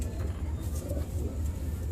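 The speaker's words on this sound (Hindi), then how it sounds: "ये बड़े कबूतर हैं" Large pigeons of a high-flying breed murmur in a low, steady coo at a quiet level, a soft continuous rumble without voices.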